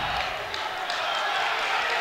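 A college wrestling arena crowd at a Big Ten match between Rutgers and Nebraska swells into a loud, steady roar of cheering and shouting, with faint thuds underneath.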